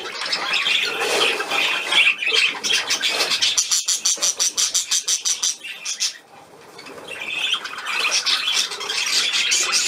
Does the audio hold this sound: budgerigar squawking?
yes